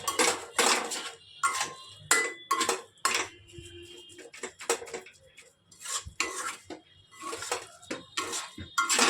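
Metal utensils scraping and clinking against a pan while serving cooked dried fish curry, a run of close, bright knocks and scrapes in irregular bursts with short pauses between.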